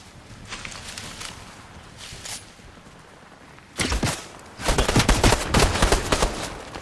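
Gunfire in a battle royale video game: faint distant shots first, then a loud burst and a long stretch of rapid, close firing that keeps going to the end.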